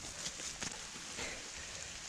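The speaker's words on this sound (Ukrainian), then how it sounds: "дощ розігрався не на жарт" Steady rain falls in a forest under a maple tree during mushroom picking, a dense, even hiss of drops on leaves and ground that stays close and continuous, with a few slightly louder patters.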